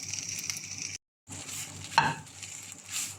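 Chicken with a tablespoon of tomato paste frying in a pan, a soft continuous sizzle with a short gap, a spoon clinking against the pan, and gentle stirring scrapes.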